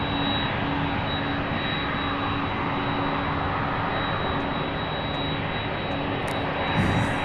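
A taxiing jet aircraft at Louisville International Airport roars steadily at close range with a constant high whine on top, loud and unbroken throughout.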